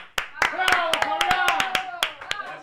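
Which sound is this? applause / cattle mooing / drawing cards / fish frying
applause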